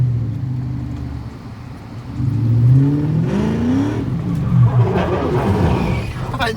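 A car engine revs hard while driving, its pitch sweeping up and down in loud rising surges heard from close by inside the vehicle.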